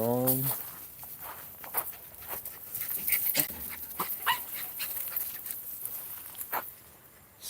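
A dog pants, whimpers and gives a few yips close by, with footsteps and light movement around it and a person speaking over part of it.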